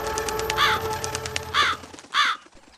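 Three loud, harsh crow caws at a steady spacing over a background of cartoon-style music, with no talking.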